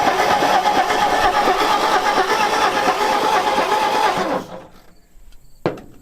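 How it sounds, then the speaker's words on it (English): An old panel truck, abandoned for 40 years, has its engine cranking steadily and loudly for about four seconds before stopping, followed by a short quiet pause and a single sharp knock. "I wish it would crank faster."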